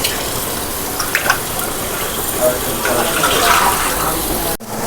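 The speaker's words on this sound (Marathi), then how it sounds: "चला गरम पाणी करून घ्या थोडंसं भाजीत" Hot water is poured into a pot of chicken curry cooking on a stove, giving a steady liquid splashing and bubbling that lasts several seconds at close range, ending in a brief drop-off.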